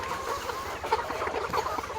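A flock of 91-day-old chickens on a farm cluck softly and steadily, several birds overlapping at moderate distance with no talk.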